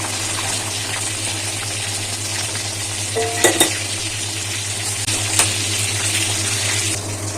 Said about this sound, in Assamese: এতিয়া মই ইয়াতে পানী দি দিছোঁ, গৰম পানী।